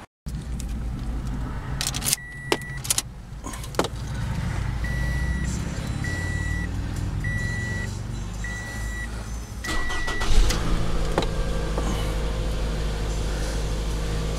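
A 2012 Scion xB starts up at a dealership, with clicks and a brief crank, then a steady low idle rumble under a repeating electronic chime, and the engine note rises briefly near the end.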